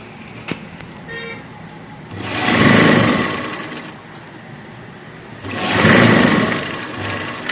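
A sewing machine runs in two close, loud bursts of double stitching along a suit seam, each a few seconds of whirring, separated by a short quiet pause with faint handling clicks.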